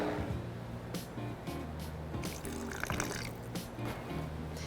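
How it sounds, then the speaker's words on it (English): Water poured into a blender of creamy guasacaca sauce, a soft trickling and splashing with faint drips, close and fairly quiet, with no talk. "I'm gonna add some water."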